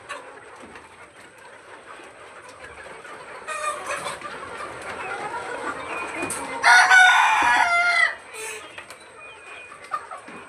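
Chickens cluck in scattered bursts while a rooster lets out one loud, close crow near the end. There is no talking.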